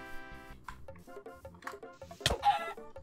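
Chickens in the video game Minecraft, a run of short repeated clucks close by, with a sharper squawk near the end and no talking.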